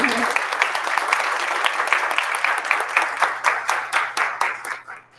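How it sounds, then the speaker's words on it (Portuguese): Audience applause fills a hotel function room in a municipal conference, steady dense clapping that starts full and thins into scattered, separated claps toward the end. "E... um aplauso."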